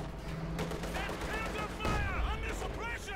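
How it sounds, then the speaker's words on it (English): An artillery barrage in the video game Company of Heroes 2, with repeated explosions, gunfire and shrieking rocket whistles layered over a busy battle, while a voice talks underneath. "we've got Fear Propaganda artillery going down here to cover the retreat"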